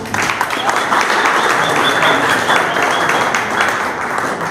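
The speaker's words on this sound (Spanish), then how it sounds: "Muy bien, un aplauso para el grupo." A group receives applause from a room of people, continuous loud clapping that holds steady for several seconds with faint crowd murmur beneath.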